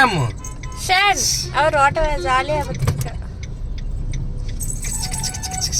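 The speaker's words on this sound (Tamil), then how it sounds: "வண்டி கிளம்பிட்டுமா" A child's ride-on toy car starts up and drives off, a steady low motor hum running beneath animated talking voices.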